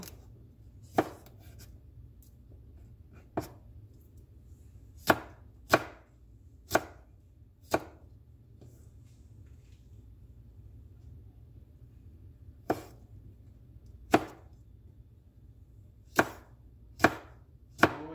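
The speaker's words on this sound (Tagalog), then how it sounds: "hiwain mo yung okra ng paganyan" Okra sliced with a knife on a cutting board, about a dozen crisp isolated chops spaced irregularly over a quiet background hum, close and distinct.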